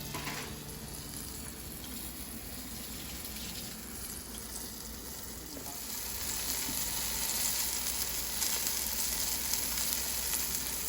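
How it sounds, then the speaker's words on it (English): Floured pot roast sears in olive oil in a Dutch oven over medium-high heat, giving a steady, close crackling sizzle that swells louder partway through, with no talking. "So you hear that sizzle, that's always a good sound."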